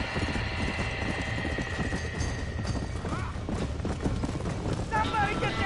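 Horses clip-clop and whinny in a Red Dead Redemption 1 scene at a burning barn, hoofbeats steady and dense throughout with a neigh rising near the end, over crackling fire and shouting voices.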